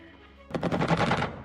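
A rapid burst of aircraft weapon fire erupts suddenly after a short lull in the Xenonauts video game, with loud, closely spaced shots continuing to the end.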